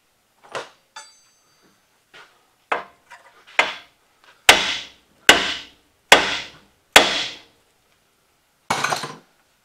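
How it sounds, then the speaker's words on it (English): A hammer strikes the steering knuckle casting of a 2007-2018 Chevy Silverado or GMC Sierra to break the taper loose, giving about five sharp, ringing metallic blows after a few lighter taps, close and alone. "I'm going to strike the casting right here on the steering knuckle to break the taper to pop that loose"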